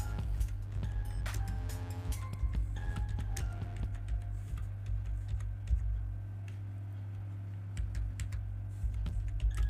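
Computer keyboard typing up close, irregular bursts of quick clicking keystrokes with short pauses, over a low steady hum.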